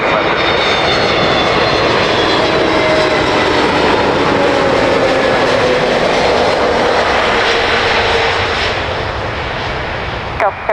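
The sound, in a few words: heavy jet aircraft landing at Miami International Airport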